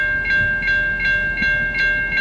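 A VIA Rail passenger train rumbles past steadily near St Lambert, Quebec, while a high, bright tone holds throughout and faint rhythmic clacks repeat about every half second.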